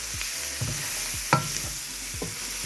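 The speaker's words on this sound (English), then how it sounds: "I'm sauteing. I want to saute these veggies until they're nice and translucent." Vegetables sizzle and fry in a hot pan while being stirred for smothered pork chops, with a continuous crackling hiss broken by several scraping strokes of a utensil against the pan.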